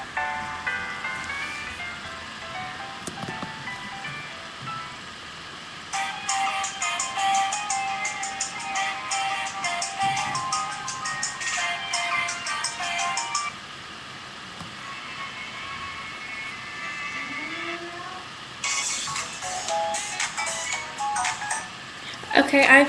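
Phone ringtone melodies play in bursts of bright, repeating electronic tones, loud and near, separated by quieter gaps of room noise.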